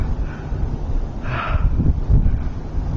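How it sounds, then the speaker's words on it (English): A gentle wind blows outdoors over a valley with willows near Beacon Rock, a steady low rumbling buffet across the microphone with one brief brighter gust midway, and no talking. "A nice gentle wind."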